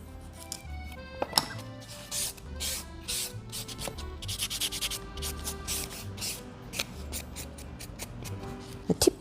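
A file rasps back and forth across the edge of an artificial nail tip, a fast series of soft, close scratching strokes in uneven bursts, with no talking.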